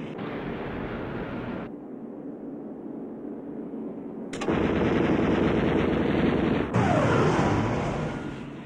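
Machine gun fire from pursuing Spitfire fighter planes, loud sustained rapid bursts broken by abrupt cuts, with roaring wind and engine noise behind, no talking.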